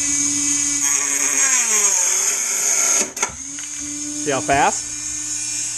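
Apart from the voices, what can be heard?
Dremel rotary tool with cutoff disc trimming RC boat part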